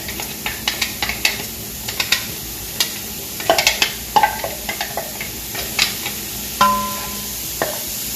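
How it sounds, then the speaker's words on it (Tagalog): Onions frying in a pan, stirred with a utensil: a steady close sizzle broken by frequent sharp taps and scrapes of the spoon against the pan, irregular in rhythm, with no voices. "So, unahin ko muna yung sibuyas ko."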